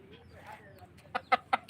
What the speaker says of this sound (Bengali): এই যে মুরগিটা দেখতে পাচ্ছেন